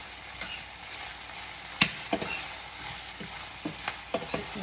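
A vegetable stir fry with snow peas sizzles softly in a pan, broken by a handful of sharp scrapes and clacks from the stirring utensil, close and moderate in level with no speech.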